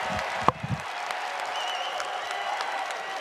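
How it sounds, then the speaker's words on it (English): Crowd applause at a wrestling match after Nathan Tomasello's victory, a steady wash of clapping and cheering throughout, with one sharp thump near the start. "The crowd is excited"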